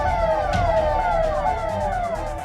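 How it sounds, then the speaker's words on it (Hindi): A police siren wails in a steady rising-and-falling sweep, loud and close, from one of a convoy of police vehicles heading toward a village at dusk, with no voices over it. "तभी अचानक सन्नाटे को चीरती हुई सायरन की आवाज गूंजी"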